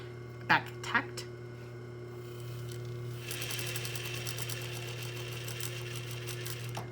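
A sewing machine stitches a sleeve placket after a back tack, running in a steady, fast mechanical whir over a low motor hum, preceded by a couple of sharp clicks, close and fairly quiet.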